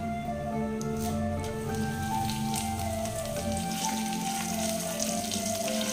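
Cumin seeds and fresh garden-picked curry leaves sizzling in hot oil for a vegetable-and-egg breakfast dish, a dense, steady crackling hiss that holds close and even throughout.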